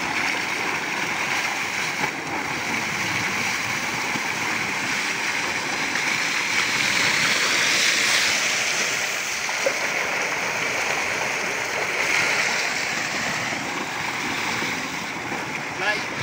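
Water pumped by a motor gushes into a pool in a steady, loud, continuous rush, with faint voices now and then.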